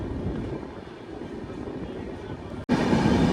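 The Kanchankanya Express rolls along the tracks near Siliguri, a steady broadband rumble from inside the train with a sudden brief dropout before the noise returns louder and closer.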